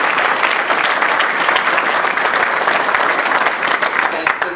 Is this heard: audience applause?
yes